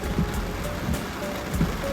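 Heavy rain pounds a car while it is being driven, a dense steady drumming wash with soft periodic thumps throughout, close and enveloping, with no voices.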